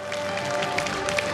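An audience claps at a televised public debate between candidates for governor and vice governor of Central Java in 2024, a dense, steady wash of clapping with a few brighter individual claps standing out.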